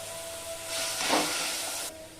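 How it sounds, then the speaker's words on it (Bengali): Mustard pabda fish curry broth bubbling in a pan, a soft continuous hiss that swells briefly and then settles back to a low steady simmer. "ঝোলটা আমার ফুটে উঠেছে"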